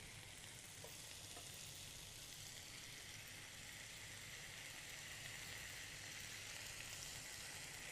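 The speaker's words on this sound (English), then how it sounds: "Want your frying pan nice and hot, and you're going to go skin side down" Chicken pieces laid skin side down in a hot, dry frying pan for Vietnamese lemongrass chicken, giving a steady, even sizzle that runs throughout with no talking.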